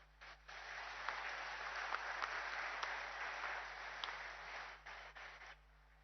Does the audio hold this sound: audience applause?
yes